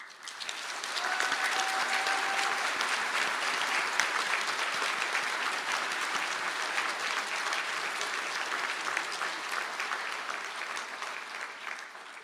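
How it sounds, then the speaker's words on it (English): A large audience applauding graduates of a Higher Diploma in Science in Medical Science at a Galway conferring ceremony, dense continuous clapping held at an even level for the whole stretch and tapering slightly at the end. "So I ask the graduates of the Higher Diploma in Science in Medical Science to stand for a round of applause"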